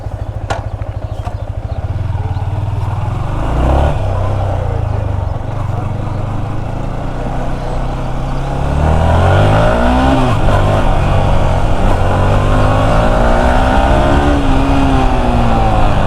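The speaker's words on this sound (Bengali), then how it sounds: "এখন বাইকটা আপাতত চালায় দেখি" A naked Yamaha R15 sport bike with rear panels and rear seat removed after a crash rides off, the engine droning and then revving up through rising, wavering pitches, loud and close, with wind rush.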